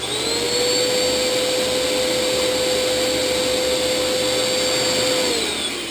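A vacuum cleaner runs continuously at close range, a steady loud whine and roar with a sustained tone that holds level for several seconds before dropping at the end, with no voices.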